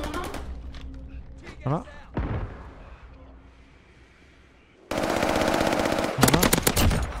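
Gunfire in the Warzone video game on the Caldera map: rapid automatic bursts crackle and rattle, some distant, then a loud sustained volley. Players talk over the shooting.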